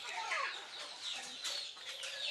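Chickens kept in a coop behind an iron door cluck and call to be fed, a busy run of overlapping, fairly close calls and clucks with no talk.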